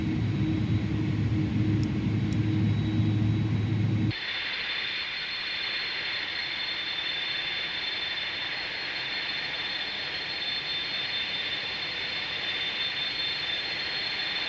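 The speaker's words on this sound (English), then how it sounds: "Those engines sound mean even at idle?" Jet engines of an iniBuilds Airbus A300 idle in a flight simulator, a steady high whine and hiss that holds on evenly, with a low rumble dropping away after about four seconds, and no talk.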